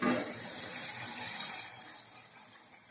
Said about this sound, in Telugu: ఇదిగో చూడండి పోస్తున్నాను వాటర్